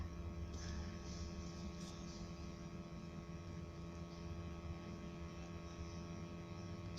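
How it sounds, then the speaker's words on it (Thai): A propeller airplane taking off in a video game, heard as a steady, low droning engine hum that holds at a constant level throughout, fairly quiet and with no one speaking over it. "ตอนนี้เครื่องบินขึ้นแล้วไงเนี่ย"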